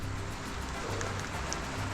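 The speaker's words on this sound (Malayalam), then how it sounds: "മഴ മാറണം. മഴയുടെ കട്ടി കൂടി." Heavy rain pours down steadily in Kashmir, a close, even wash of drops hitting surfaces without a break.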